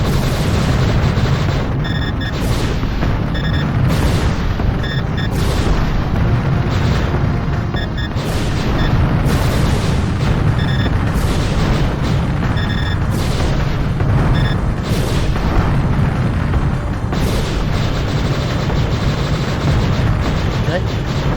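Shooting and explosions aimed at an enemy in a Sega Saturn shooter: steady, loud rapid fire mixed with repeated booming blasts rolls on without pause, while a voice talks over the din.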